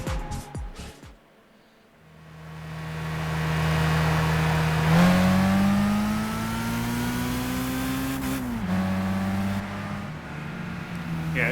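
A race car engine in a Gran Turismo 5 replay on a city circuit drones loud and steady, its pitch climbing through the gears with short dips at the shifts, and no one talks over it.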